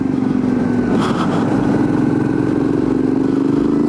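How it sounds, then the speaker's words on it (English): Suzuki V-Strom 650 motorcycle fitted with a Delkevic aftermarket exhaust, heard while riding: a steady, loud engine drone with a slight rise in pitch, close and continuous throughout with no talking. "Exhaust sounds very, very cool."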